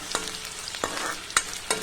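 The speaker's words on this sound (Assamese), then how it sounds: "মই দিছো পাঁচফোৰণ আৰু কাটি ৰখা পিয়াজখিনি দি দিছো আদা নহৰু পেষ্ট" Chopped onions with ginger-garlic paste and five-spice seeds frying in a pan, a bright steady sizzle broken by four sharp scraping stirs of a spatula, close and without talk.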